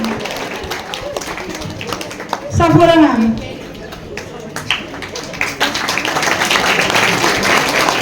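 Schoolchildren clap for their teachers at a Teacher's Day event in an Anglo Urdu high school in Sangamner, with sustained, crowded clapping that continues beneath an announcer's voice, which cuts through loudly for a moment and then fades back under the applause.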